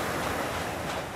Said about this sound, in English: the sea sound always comes from the seaside